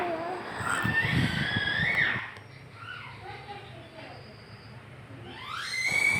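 A baby lets out loud, high-pitched shouts up close, then quieter fussing and background noise, before another rising shriek at the end.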